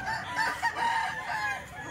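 A rooster crows among gamefowl chickens kept for sale, a drawn-out crow at middle distance over steady farmyard background noise.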